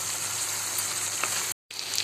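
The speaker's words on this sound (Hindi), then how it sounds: "हमने अपना लहसुन और प्याज का पेस्ट डाल दिया है और हम इसे धीमी आंच पे भूनेंगे।" Garlic and onion paste frying over a low flame, a steady, fine, close sizzle with a brief dropout near the end.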